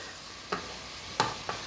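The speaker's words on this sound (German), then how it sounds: "die auch noch mal ein bisschen anbraten lassen" Vegetables sizzle in a frying pan as part of a chicken breast, rice and vegetable dish, a steady close hiss broken by three short stirring scrapes, with no talking.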